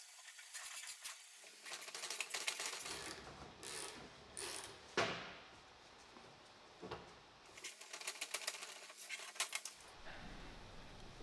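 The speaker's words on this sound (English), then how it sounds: "Align the assembly in the press and remove the first U-joint cap." A shop press pushing a U-joint cap out of an International Scout II front axle shaft, heard as mechanical creaks, ratcheting clicks and metallic grinding in uneven bursts, close and fairly quiet.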